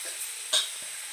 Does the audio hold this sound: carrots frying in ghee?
yes